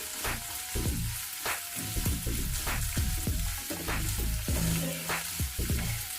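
Grated ginger paste frying with chopped onions in a hot pan: a steady, close sizzle with crackling bursts and stirring scrapes throughout, and no talking.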